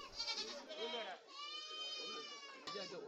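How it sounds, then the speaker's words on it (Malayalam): Goats bleating at a rainy Kerala goat market where animals are being bought and loaded onto a vehicle, several wavering cries close by over steady rain-like hiss, with people talking in the background. "ഇടക്കമേ ആടുകളൊക്കെ വാങ്ങി വണ്ടിയിൽ കയറ്റുകയാണ്"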